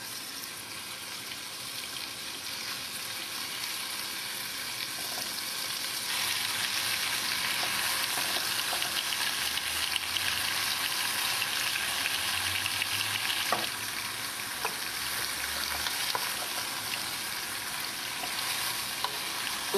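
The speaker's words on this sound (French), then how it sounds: "Une fois le beurre bien chaud, on va ajouter la viande pour qu'elle soit saisie." Beef sears in hot butter for boeuf bourguignon, a loud, continuous close sizzle that swells after a few seconds, with occasional clicks and light clatter, no voices.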